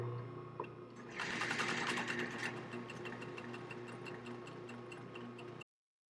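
A sewing machine runs a straight stitch at about 3 to 3.5 length through stretch knit fabric, a steady fast mechanical whir at close range that speeds up briefly early on and then runs evenly before stopping.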